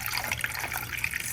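Windshield washer fluid (UCS 2-in-1 bug remover) pours steadily through a funnel into a car's washer reservoir, a continuous close liquid trickle and gurgle with no talking.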